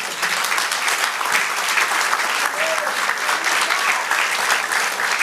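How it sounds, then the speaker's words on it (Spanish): A church congregation applauds in a sustained, dense burst of clapping that stays loud and even throughout, with a voice briefly audible underneath. "Denle aplauso al Señor."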